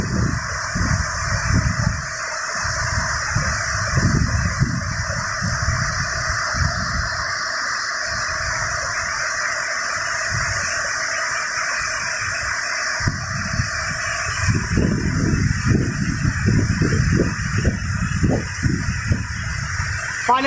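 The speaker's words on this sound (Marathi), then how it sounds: "पाण्याचा आवाज" Rushing water of Rajwadi waterfall in Maan taluka, a steady broad hiss with splashing, continuous and fairly loud throughout, with low rumbling gusts underneath.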